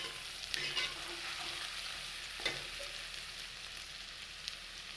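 Onions fry toward golden brown with ginger-garlic paste in a pan for a potato curry. There is a soft, continuous sizzle with a few faint stirring scrapes, quiet and alone.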